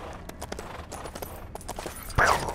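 Horse hooves clip-clop in a steady, brisk rhythm while riding in the LEGO Hobbit video game, close and fairly crisp, ending with a louder burst of sound near the close.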